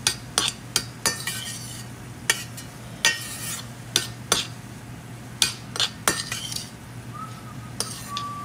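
Utensils clink and scrape against a pan while food is mixed in a bibim style, with a steady series of sharp metallic taps over a low hum, close and fairly loud.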